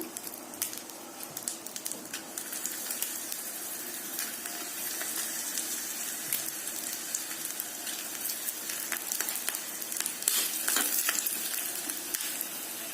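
Urad dal and chillies fry in hot oil for a peanut chutney tempering, making a continuous close crackling sizzle with dense tiny pops that thickens slightly toward the end.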